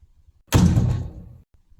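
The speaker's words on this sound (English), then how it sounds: "One of the men gently closed the heavy office door." A heavy office door swings shut with a single dull thud that trails into a short muffled resonance, close and fairly loud against otherwise near silence.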